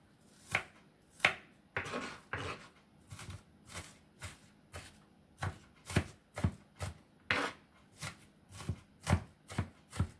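A knife mincing food on a cutting board, about twenty crisp, close chops in an uneven rhythm, some in quick pairs, with no talking.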